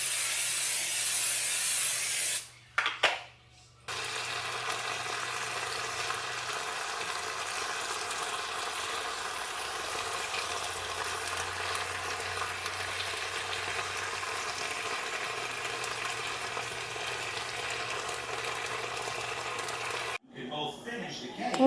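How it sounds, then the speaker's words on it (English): Bacon and eggs frying in a pan, a steady broadband sizzle that runs for most of the stretch with a short break near the start and a low constant hum underneath. "so I'm gonna make my bacon and eggs"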